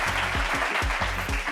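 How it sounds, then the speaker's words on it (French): A studio audience claps for a guest on a French-language TV discussion show, with steady, dense applause filling the short moment close by. "Applaudissements pour Brazing."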